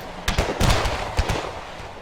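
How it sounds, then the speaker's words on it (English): Musket volleys crackle in the PC strategy game Napoleon Total War, a spread of sharp, overlapping shots popping at moderate distance in irregular bursts over a low battlefield rumble. "the muskets start firing"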